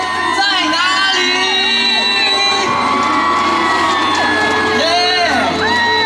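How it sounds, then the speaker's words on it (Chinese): Crowd at an outdoor summer carnival concert in Hualien screams, whoops and cheers loudly and continuously, with rising shrieks coming in waves. "所有花莲的朋友，全场的尖叫声在哪里？"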